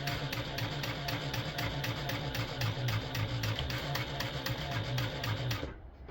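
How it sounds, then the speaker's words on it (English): A sewing machine straining as it sews a stadium bag, running steadily with a rapid, regular mechanical ticking and a labored hum, stitching continuously for several seconds before stopping. "it sounds like my sewing machine's kind of struggling"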